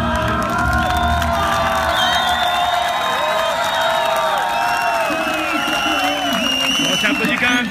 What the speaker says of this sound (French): On s'est applaudi quand même un petit peu.